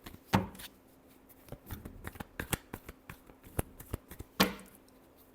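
Tarot cards shuffled up close, with a quick run of crisp snapping riffles and soft slaps, then a sharper burst near the end. No one talks.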